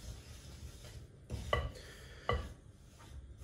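Soft butter being mixed by hand with a spoon in a bowl for cookie dough, giving quiet, close scraping and a couple of clinking taps against the bowl.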